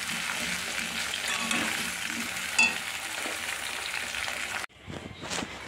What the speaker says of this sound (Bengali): চলুন এবারে মশলাটা কষি।